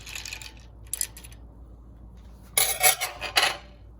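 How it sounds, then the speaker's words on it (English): A spoon stirring iced coffee in a glass, giving a short rattle of clinks, a quiet stretch, then a louder cluster of ringing metallic taps against the ice and glass. "stir it up a little bit first"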